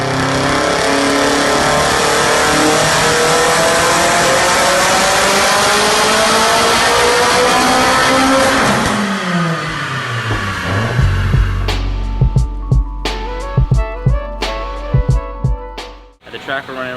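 The engine of a Subaru STI race car roars loud and close at high rpm, a dense sustained drone on the dyno. Then it drops off through a falling sweep and settles into sharp popping bursts and revs as it idles down.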